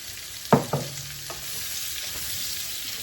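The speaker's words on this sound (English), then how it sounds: "Now we're going to add in the onions that we chopped up. We just want to get these started sauteing." Chopped onions go into a hot pan for pork chops in onion gravy, starting with two sharp clatters of them landing and a quick burst of sizzle, then settling into a steady, moderate saute hiss.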